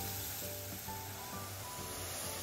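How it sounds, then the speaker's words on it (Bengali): Spices fry in a pot with a little water, giving a steady, close sizzle that runs unbroken throughout, with a faint tonal hum underneath. "ভালো করে মশলাগুলোকে কষিয়ে নিব যতক্ষণ না মশলা থেকে তেলটা আলাদা হয়ে যায়।"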